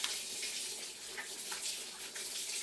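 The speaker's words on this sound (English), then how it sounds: "Oh yes, I did say I'd wash my hands." Hot tap water runs steadily into a sink while hands are washed, a continuous close hiss and splash with no talking.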